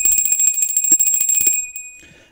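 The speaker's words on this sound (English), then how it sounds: "So we do that with the bell." A small bell rung to cleanse the space during a tarot reading, a series of bright rapid rings that stop and leave a high ringing tone fading out over about two seconds.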